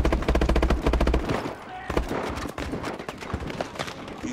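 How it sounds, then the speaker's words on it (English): Call of Duty Advanced Warfare gunfire crackles in fast, rhythmic automatic bursts, loud at first and then thinning into scattered shots and noisy clatter. "I don't like how they're shooting at us."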